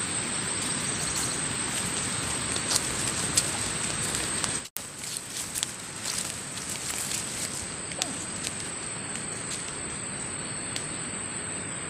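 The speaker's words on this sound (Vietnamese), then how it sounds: "trời mưa" Rain falls in a steady, close hiss, with a faint high electrical whine and a brief dropout midway.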